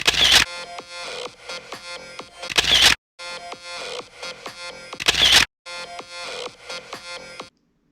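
Camera shutter firing for a selfie beside a 2013 Harley-Davidson Road King, several sharp mechanical clicks each followed by a burst of whirring, repeated in close, loud groups with brief silences between.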